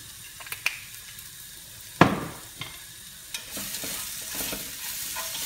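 Olive oil sizzling in the bottom of a cast-iron casserole as something is sautéed, a steady hiss with a few sharp clinks and scrapes of a utensil against the pot; no talking.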